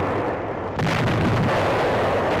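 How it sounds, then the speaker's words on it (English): Bombing explosions hit the Corregidor fortress in archival wartime film: a heavy, rumbling blast surges in and holds as a loud, dense roar of detonation with no voices over it. "The Japs are bombing us from outside."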